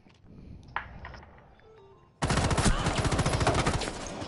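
Rapid automatic gunfire bursts out loud and dense in a PS4 shooter game after a quieter stretch of faint game noise, sustained rattling volleys dominating the second half.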